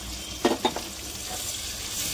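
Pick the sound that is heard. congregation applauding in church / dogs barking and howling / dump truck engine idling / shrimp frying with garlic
shrimp frying with garlic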